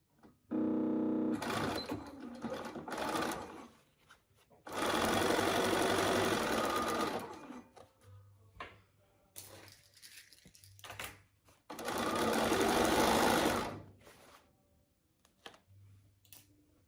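A sewing machine stitches board shorts in three long running bursts of a few seconds each, separated by quiet pauses with small handling clicks and no talk.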